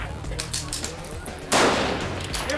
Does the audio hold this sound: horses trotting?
no